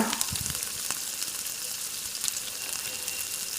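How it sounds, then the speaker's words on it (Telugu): Onions and curry leaves frying in a pan for bottle gourd curry, giving a steady close sizzle and hiss with a few stirring clinks near the start. "అలాగే ఉల్లిపాయలు కరివేపాకు వేసి వేపుకోవాలండి"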